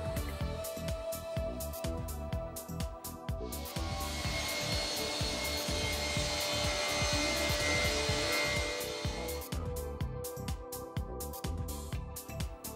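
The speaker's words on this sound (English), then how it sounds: "The saw guard extracts the dust perfectly" Felder C3 31 combination machine's sliding table saw ripping through a wooden panel, a broad whooshing cut that swells for several seconds over the steady hum of the running saw and dust extraction, fairly quiet overall.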